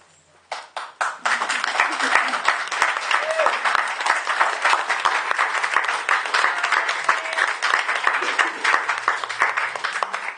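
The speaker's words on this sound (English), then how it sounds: "So I'd like you to give her a massive round of applause." An audience at a poetry showcase on disability bursts into applause after a few scattered early claps, then keeps up dense, sustained clapping for several seconds before it tapers off at the end.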